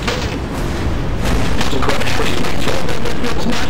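Artillery tanks fire in Empires, a Half-Life 2 mod, producing a loud, rumbling barrage of booms and blasts that swells and stays continuous with no break.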